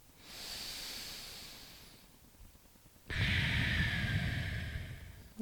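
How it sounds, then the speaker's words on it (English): Slow, deep breathing during a gentle yoga hip stretch: one long, soft inhale, a quiet pause, then a fuller, louder exhale, close and alone. "Take one more breath here."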